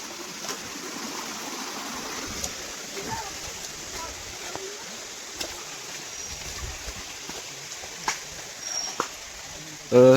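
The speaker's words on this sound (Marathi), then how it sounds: "हा मिनी धबधबा बघू शकता तुम्ही" A small waterfall on a monsoon trek to Ratangad fort near Bhandardara, a steady rushing stream of flowing water heard close, with a few brief knocks and no clear talk.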